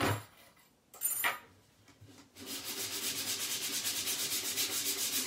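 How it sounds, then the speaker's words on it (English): Sandpaper rubs along the edges of a Chalk Couture piece in quick, even back-and-forth strokes, a soft rhythmic scratching that follows a few faint handling sounds, close and alone. "Let's sand a little bit on the edges."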